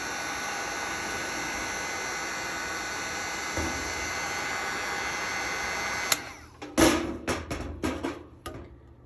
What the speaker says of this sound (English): Careful when you use the heat gun that you don't ripple the vinyl because it is warm.